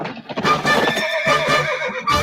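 A horse whinnies loudly in a video game, a long, wavering neigh filling the whole stretch with hoof clip-clop mixed in and no talk over it.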